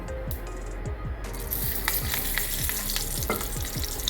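Garlic frying in a little oil on low heat alongside roasted peanuts for a flaxseed, sesame and peanut chutney: a continuous close sizzle with regular spatula scrapes, quieter at first, then fuller and crackling.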